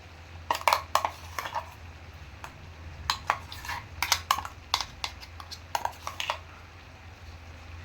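Ground coconut paste being stirred into a pot of aviyal, a thick South Indian mixed-vegetable dish, giving irregular bursts of scraping and knocking against the pot over a steady low hum, with no talk.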